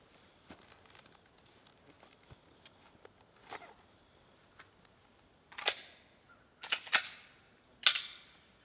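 HK USP Expert pistol fired during a timed draw, a few sharp cracks near the end after quiet shuffling and light clicks, each shot abrupt with a short decay, no talk.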